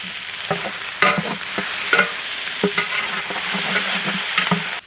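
Onions sizzle steadily in hot oil in a pot while a spoon stirs them, with scraping clinks at irregular intervals over the continuous frying hiss, close and moderately loud, no talking.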